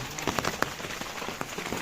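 Rain at the start of the monsoon patters onto a surface close by, a steady hiss with distinct drops striking in quick, irregular succession.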